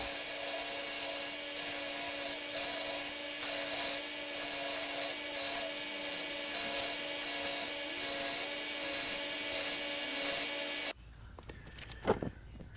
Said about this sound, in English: here I'm doing the rough shaping on the handle scales